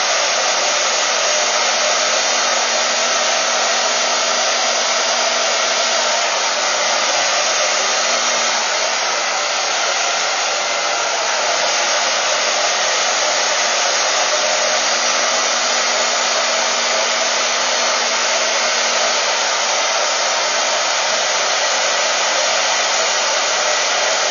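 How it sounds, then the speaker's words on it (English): A hair dryer blows loudly and continuously at a steady pitch, running without pause from start to finish. "picking up my blow dryer, I'm going to go ahead and pull through."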